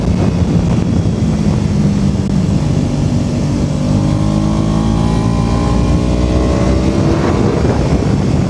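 A classic motorcycle engine with a 13,500 RPM redline drones loud and steady close by, its pitch climbing as it revs and accelerates, with wind rush and no talking.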